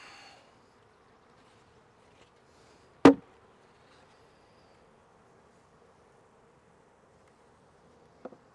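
A faint, steady insect buzz hums in a quiet space, broken by one sharp thud and a later soft knock.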